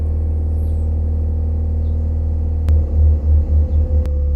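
A Toyota Vios engine idles at raised RPM just after a cold start, giving a close, steady low rumble that turns into a rhythmic pulsing throb near the end.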